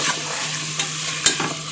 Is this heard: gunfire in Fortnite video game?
no